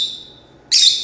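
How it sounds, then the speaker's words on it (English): Pet birds in a home let out a sustained high whistle-like call that fades, then a sudden loud burst of shrill squawking and chirping near the end, close by with no talking. "Excuse my birds."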